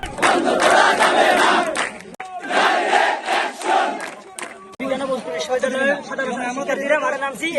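A student protest march in Patuakhali against the quota system, with a large crowd loudly chanting slogans in rhythmic call-and-response bursts and a single voice leading between the massed shouts.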